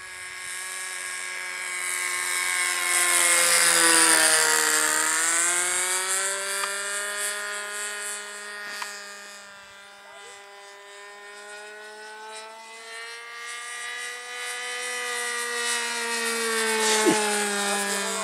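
A radio-controlled model airplane engine drones steadily in flight at a local RC flying field, its pitch sliding up and down as it passes and banks. The whine is moderately loud, continuous and alone, with no talking.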